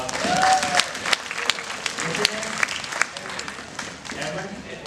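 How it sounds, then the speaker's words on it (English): An audience at a teen conference claps throughout in dense, steady applause, with a voice talking over the clapping. "Let's give him a round of applause."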